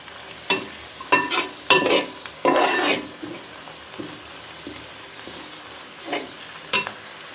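A ladle scrapes and stirs in an aluminium uruli pot in uneven bursts of harsh, loud scraping, separated by quieter pauses and a few lighter knocks.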